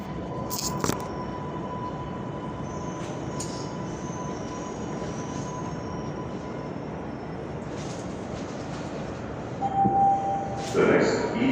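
An E train pulls into a subway station, a steady rumbling roar with a long metallic whine and brief clanks, growing louder with squeals near the end.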